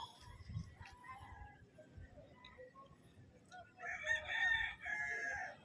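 A rooster crows loudly near the end, a drawn-out call over faint background noise and distant bird chirps, at an outdoor fishing spot.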